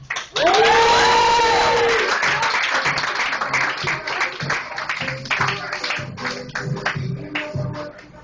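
A comedy club crowd at The Comedy Store breaks into applause and cheering to welcome a comedian, a loud swell at first, with a whoop rising over it, that thins into scattered clapping.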